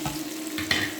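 Vegetables sweat in a pan for a seafood pastilla, with a soft, low sizzle and a couple of brief utensil scrapes, close and fairly quiet.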